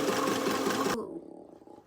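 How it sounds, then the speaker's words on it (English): A sewing machine runs hard and steadily while it stitches pockets onto a pair of pants, then stops abruptly partway through. A low, fading mechanical rattle follows the stop. "now I am sewing the pockets onto the pants"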